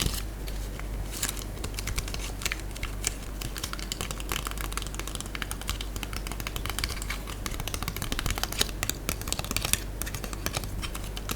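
Thick silver foil-backed candy wrapper paper is handled up close, giving a dense stream of crisp crackles and small ticks, steady and busy throughout with no talk.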